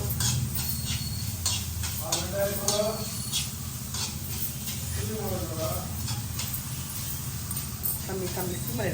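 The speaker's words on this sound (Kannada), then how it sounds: "ತೆಂಗಿನಕಾಯಿ ಹಾಕಬೇಕು, ಚೆನ್ನಾಗಿ ಫ್ರೈ ಮಾಡಬೇಕು." Grated coconut fries in a pan with a steady sizzle as it is stirred, scraping and clinking against the metal while a person talks over the cooking.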